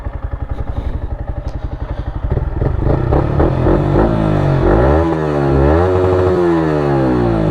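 A Yamaha MT-15 motorcycle fitted with an Akrapovic R1M exhaust idles with a fast, even pulsing burble, then revs and accelerates while riding, engine pitch rising and falling through gear changes, loud and close with no talk.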